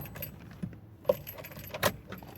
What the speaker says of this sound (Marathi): पहिल्यांदा गाडीला बंद करून टाकतो.